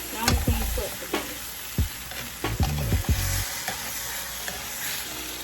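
A cheesy spinach omelette cooks in a frying pan, giving a steady soft sizzle broken by several sharp scraping and stirring knocks from a utensil, close and moderately loud with no talking.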